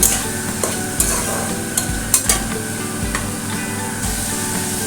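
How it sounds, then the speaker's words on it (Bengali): Dry fish being stirred with Kashmiri chili powder in a pan, a steady close scrape and shuffle of the spatula over a soft sizzle, with a few sharper clinks against the metal. "ভালো করে নাড়াচাড়া করে নিচ্ছি"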